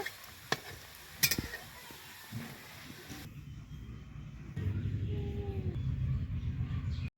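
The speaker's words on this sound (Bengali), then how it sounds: "সবগুলো এইভাবে ভেজে নিব কিভাবে ফুলছে দেখতে পাচ্ছ" Pitha frying and puffing in hot oil gives a soft, close bubbling sizzle, with a few sharp utensil clicks early on and the frying growing louder toward the end.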